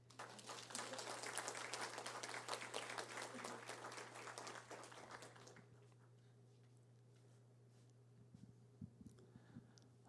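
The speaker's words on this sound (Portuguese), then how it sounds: "Aplausos." Dense applause from a crowd at a tribute ceremony in the Sorocaba city council chamber for about five seconds, then it stops abruptly, leaving a quiet room with a steady low hum and a few faint knocks.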